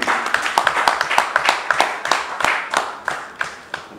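A small audience claps for a guest being welcomed at an event, a loose run of distinct, fairly close hand claps with uneven rhythm that thins out over a few seconds.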